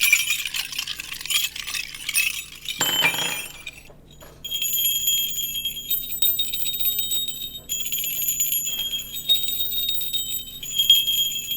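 Small metal tail bells for a red-tailed hawk are shaken one after another, giving bright, sustained high-pitched jingling rings; an early burst of clinking gives way to several separate, clear ringing tones that each linger before the next.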